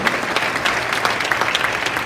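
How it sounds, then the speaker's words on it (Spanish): Church congregation applauding during a Sunday worship service, a steady wash of clapping hands filling the space throughout, fairly loud and continuous with no one speaking over it. "Aplauda con gozo a Jesús"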